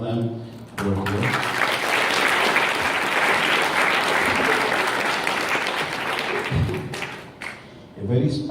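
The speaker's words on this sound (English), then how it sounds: "I would request for a round of applause for every one of them who are here." Audience at a Chinmaya Mission graduation program breaks into sustained applause, a dense, loud roll of clapping lasting several seconds, with brief voices and thumps just before it starts and as it fades.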